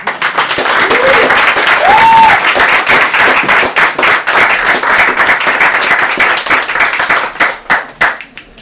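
Warm audience applause fills an open mic night in a Limerick bar, a dense steady clapping wash that holds for several seconds before thinning into scattered claps at the end, with a brief cheer or whoop near the start.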